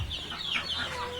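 Farm chickens clucking close by, a continuous busy run of short clucks and squawks with no voices over them.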